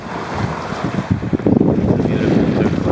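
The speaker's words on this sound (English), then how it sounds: "of the bow cutting through the water." A sailboat's bow slices through turquoise Adriatic water on a solo sail, the loud rushing splash surging in uneven bursts under heavy wind buffeting the microphone, with no speech.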